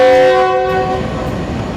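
A passenger train pulling out of Rawalpindi railway station sounds its horn, a loud, steady tonal blast that fades after under a second, leaving low rolling rail noise and no voices.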